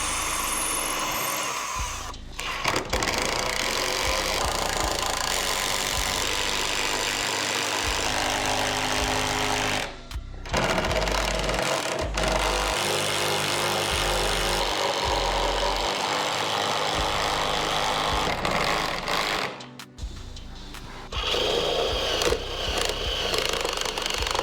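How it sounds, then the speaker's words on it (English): Power drill boring pilot holes and driving leg screws into wood in a home garage, heard as long continuous whirring runs broken by short pauses near 10 and 20 seconds, loud and close with no talk. "I'm gonna start by drilling some pilot holes and then setting in the leg screws."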